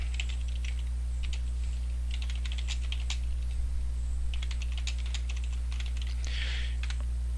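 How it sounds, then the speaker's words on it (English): Quick bursts of clicking keystrokes on a computer keyboard, typed in uneven runs with short pauses over a steady low electrical hum, close and moderately loud with no talk. "I'll type it out for you guys."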